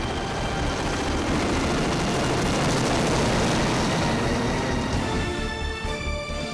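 Huge firefighting helicopter of the Terminator type, carrying 10,000 litres of water, works over a burning forest, its steady, loud rotor and engine roar filling the air without pause.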